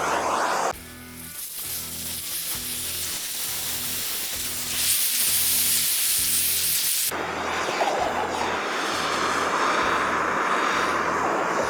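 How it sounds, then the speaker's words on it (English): A torch roars against an oiled Blackstone griddle surface while it is seasoned: a loud, steady rushing hiss throughout, with a brief change in tone midway and rising intensity later. "And hit it again with the torch."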